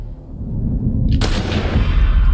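A single sharp, loud gunshot cracks out in The Last of Us Part 2 over a low rumbling background. A dense roaring tail hangs on afterward.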